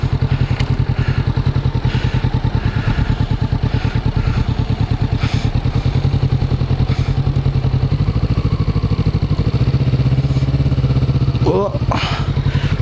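A 2021 Kawasaki Vulcan S cruiser motorcycle, carrying the ER6N parallel-twin engine, runs at a steady close-up idle with a rapid even pulse during a slow turning test, with a few clicks and a brief squeak near the end.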